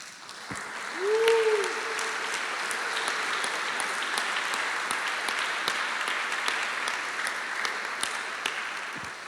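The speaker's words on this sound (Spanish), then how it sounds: "Y si le damos un aplauso al Señor." A church congregation claps together during a Spanish-language Sunday service, a broad steady burst of applause lasting throughout, with a brief vocal shout or whistle near the start rising above the clapping.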